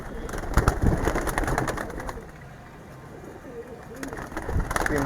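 Domestic pigeons, including black birds kept in a home loft, coo softly at close range in a steady, low murmur, with background noise throughout.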